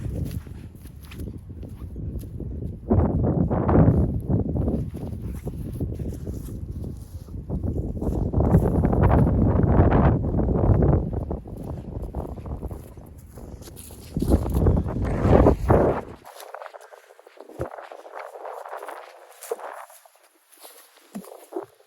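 Strong, gusty wind at Sherwood Island disc golf course roars across the microphone in heavy low buffeting bursts, easing into a lighter, thinner rush near the end; no voices are heard.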